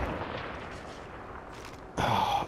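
Gunfire in the video game Call of Duty: Modern Warfare, a dense, steady roar of shooting with a louder close burst near the end, no talk.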